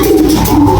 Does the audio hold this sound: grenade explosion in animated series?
no